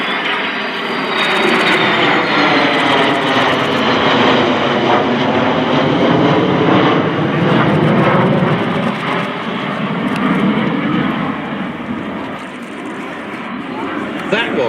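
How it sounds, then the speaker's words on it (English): Several F-16 fighter jets in a flypast at the RIAT air show, including a US Air Force F-16CJ, a Turkish Air Force F-16C and a Romanian Air Force F-16AM: a loud, sustained jet roar that swells and fades slowly as they pass overhead. "the final wave of the flypast, a US Air Force F-16CJ, Turkish Air Force F-16C, and Romanian Air Force"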